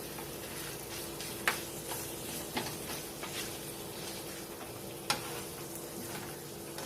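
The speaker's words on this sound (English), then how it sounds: "Stir that in until the cream cheese is melted." Cubed cream cheese stirred into a pot on the stove for a pizza pot pie: a faint, steady low sizzle with a few sharp clacks of the spoon against the pot, and no talking.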